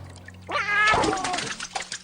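A cartoon tomcat lets out one loud, drawn-out yowl that rises into a strained, wavering meow and lasts under two seconds, heard up close. No voices.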